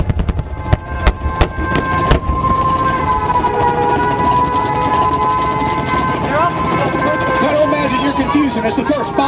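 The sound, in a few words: air raid sirens in Pearl Harbor attack reenactment at air show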